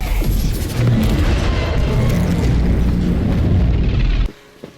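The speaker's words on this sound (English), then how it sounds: "for cyber ninjas on a stealth mission, we sure cause a lot of explosions" An explosion in the video game Split Fiction, a dense, loud rumbling blast that sustains for about four seconds before cutting off abruptly into quiet.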